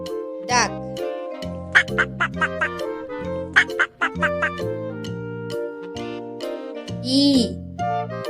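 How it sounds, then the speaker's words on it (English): A duck quacks a few times, close and clear, in short nasal bursts over background music, with one louder quack toward the end. "Duck."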